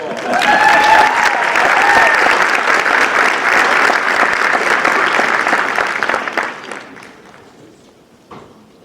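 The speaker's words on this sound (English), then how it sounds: "give the Honorable Vince Santini a round of applause" Audience at a county swearing-in ceremony for elected officials, clapping loudly and steadily for several seconds before the applause thins out and fades near the end.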